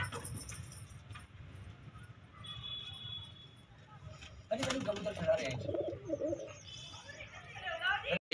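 Pigeons coo in low, soft, throaty murmurs close by, with a person talking over them and some rustling and clinking.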